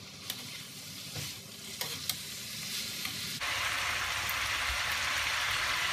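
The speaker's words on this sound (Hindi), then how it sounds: "मैं आँच तेज करके इसको भून लूंगी।" Chicken fries on high heat in a pan with a soft steady sizzle and a few light clinks, and the frying swells louder and fuller partway through.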